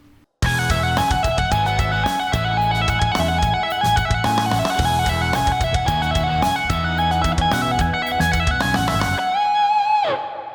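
A distorted electric guitar plays a fast, smooth legato run of three repeating notes, sustained and loud, ending on a ringing held note.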